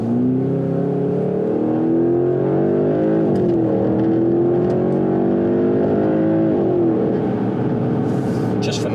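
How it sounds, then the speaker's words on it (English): A 2022 Porsche Panamera GTS V8 with its sport exhaust open revs hard through downshifts, a loud, close, continuous engine roar with pitch rising and falling as the gears change. "And this is that V8 sport exhaust."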